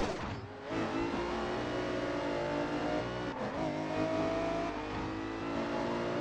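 Racing car engine in James Bond 007: Blood Stone, droning steadily at high revs with shifting pitch throughout, loud and continuous with no pauses.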